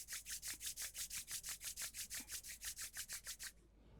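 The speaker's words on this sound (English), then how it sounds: "Gently rub your palms." Hands rubbing palms together during a yoga breathing routine, about twenty steady, even back-and-forth friction strokes, soft and close, then stopping abruptly near the end.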